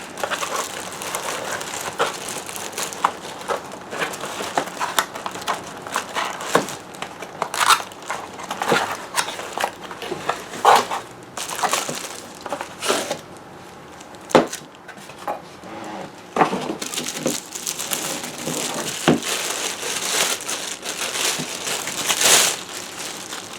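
Close-up crinkling and crushing of the cardboard and plastic bag packaging around a Ninja Dual Brew coffee maker pot, with irregular rustles, tears and handling noises continuing without any talking.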